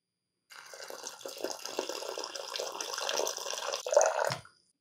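Half a liter of freshly boiled water pours steadily into a container for about four seconds, a hollow splashing stream that swells slightly before stopping.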